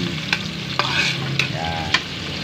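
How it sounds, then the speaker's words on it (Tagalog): Onions and chicken sautéing for tinola, stirred in a pan with a steady sizzle and scraping utensil strokes, close and clear, with no talk. "At halo-haloin lang po natin yan mga lodi."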